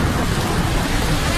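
Steady cartoon rainfall pours down as a dense, even hiss with no pauses, loud and close throughout, with no voices over it.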